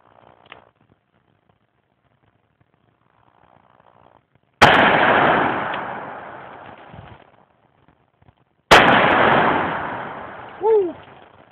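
Two loud revolver gunshots from a .38 Special, .357 Magnum or .44 Magnum handgun, each a sharp blast with a long decaying echo, several seconds apart, with faint quiet sounds before the first.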